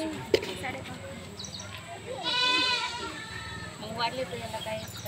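A goat, a nanny with kids, bleats nearby in a quavering cry amid steady outdoor background noise and faint voices on a goat farm.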